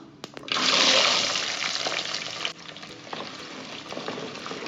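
Whole shallots and mustard seeds hitting hot oil in a clay pot, bursting into a loud, dense sizzle that stays strong for a couple of seconds, then settles into a steadier frying hiss with stirring clatter.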